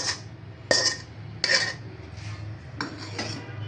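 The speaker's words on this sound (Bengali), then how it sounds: "সব নারকেল বাটিতে উঠাইলাম" Grated coconut scooped into a bowl, with three or four sharp metallic clinks and scrapes of a utensil against the dish over a quiet background, no talk.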